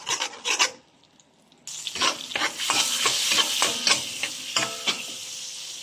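Garlic sautéing in melted margarine in a pan, a bright continuous sizzle broken by repeated scraping strokes of a spoon, close and fairly loud after a brief quiet pause.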